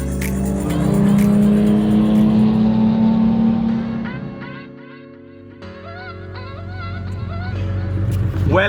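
A Porsche 997 GT3 with a lightweight flywheel drones loudly from inside the cabin while driving, revs rising and then falling away, and a voice speaks faintly over the engine.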